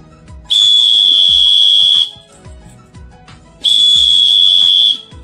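Emergency survival whistle sounding two long, piercing, shrill blasts of about a second and a half each, separated by a short pause, loud and close.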